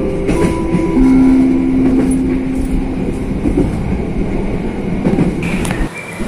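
An Ambarawa Express passenger train rumbles and clatters steadily as it rolls into Randu Blatung station in Indonesia, with a brief tonal squeal from the wheels or brakes early on, then slows.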